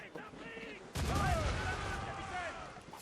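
Naval cannon fire in the Assassin's Creed Rogue video game erupts as a sudden loud volley partway through, followed by a sustained roaring rumble as faint voices carry on in the background.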